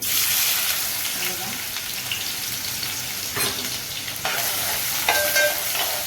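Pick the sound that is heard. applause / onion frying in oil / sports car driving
onion frying in oil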